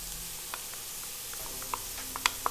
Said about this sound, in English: So at this point, I'm going to add the garlic